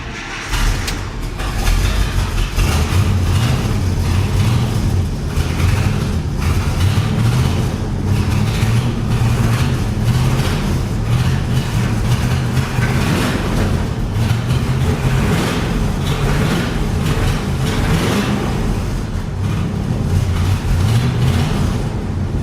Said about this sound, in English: We'll fire this thing off and see if it idles at all.